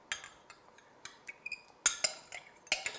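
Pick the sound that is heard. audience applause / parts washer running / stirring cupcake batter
stirring cupcake batter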